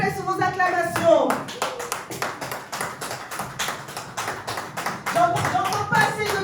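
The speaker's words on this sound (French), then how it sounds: "S'il vous plaît, sur vos acclamations." Dense rhythmic hand clapping from an audience at a press conference before a concert, steady and close throughout, with brief shouts and a voice heard over the start and end.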